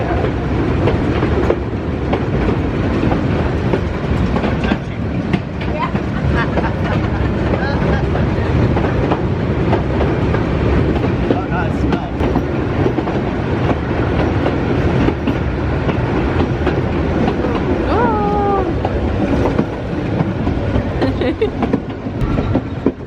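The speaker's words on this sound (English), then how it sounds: "We took a 30-minute train ride to the restrooms." A passenger train ride on a Rhône river cruise outing, with steady rolling rumble and rail clatter filling the whole stretch, close and continuous, while people's voices murmur faintly underneath.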